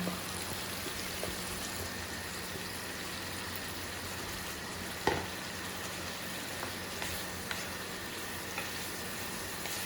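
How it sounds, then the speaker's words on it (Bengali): Steady sizzling of chicken frying in a pan for chilli chicken, a continuous crackle with a few sharper pops, close and even throughout. "তো আমি কি করব, এবার এই চিকেনগুলোকে আমি দিয়ে দিলাম"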